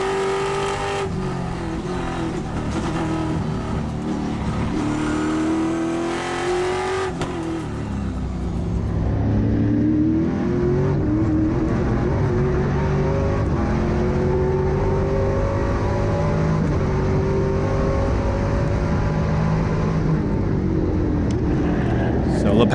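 Trans Am race car heard from onboard during a race at Thunderhill, its engine loud and continuous, climbing and falling in pitch through gear changes and corners, with a commentator talking over it throughout.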